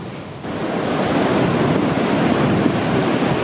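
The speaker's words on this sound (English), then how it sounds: "So here we are at the beach" Ocean waves break on a beach in Northern New South Wales, a loud continuous wash of surf swelling slightly after the first half-second, with some wind buffeting the microphone.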